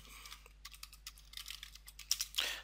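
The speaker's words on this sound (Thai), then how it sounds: "พิมพ์ชื่อ Cooling" Fingers type on a computer keyboard at a desk, quick soft clusters of key clicks in irregular bursts, close but faint over a low steady hum, with no one talking.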